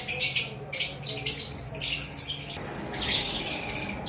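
Adult violet double-factor masked lovebird pairs at a breeding farm give bursts of shrill chirps and squawks in quick overlapping runs, with short gaps between the calls.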